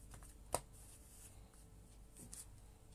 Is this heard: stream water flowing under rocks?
no